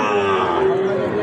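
Sahiwal cattle, border-cross animals at the Ambari livestock market, with a loud, close low moo-like bellow held for about a second amid crowd noise.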